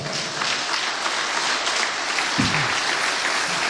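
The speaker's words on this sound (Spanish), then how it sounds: "Dele un fuerte aplauso al Señor, por favor." Congregation at a Christian sermon giving a loud round of applause, a dense sustained roar of clapping that stays even throughout, with a brief low voice breaking through midway.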